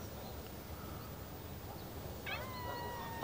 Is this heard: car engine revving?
no